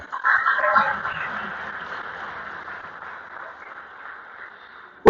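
Audience applause at an International Workers' Day (May Day) address by President Bio in 2022, a steady wash of many hands clapping that starts loud and slowly fades over several seconds.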